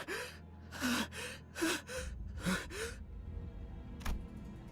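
A game character in Limbus Company gasps for air, with several sharp, ragged inhaled gasps in an uneven rhythm, close and fairly loud, followed by a quieter breath near the end.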